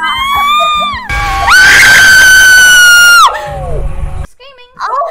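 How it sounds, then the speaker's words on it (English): Loud, sustained high-pitched screaming from a player in the horror game Devour, one long shrill scream with other shrieks and frantic voices before and after. "Screaming."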